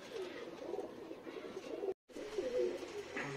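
Madras pigeons cooing close by, soft low throaty calls repeating over a faint background, with a brief dropout in the middle.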